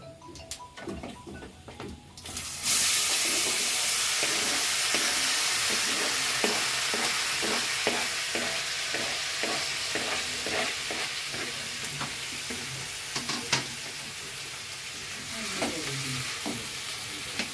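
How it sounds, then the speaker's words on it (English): Chopped tomato tipped into a hot pan for vegetable rasam, starting with a sudden loud hiss that settles into steady close sizzling, with light stirring scrapes and ticks throughout and no talking. "Now I'll add this tomato."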